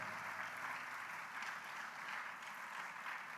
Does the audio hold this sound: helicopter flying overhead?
no